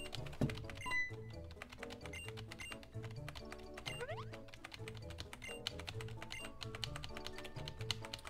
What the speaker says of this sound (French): Oui, vous entendez très bien mon clavier.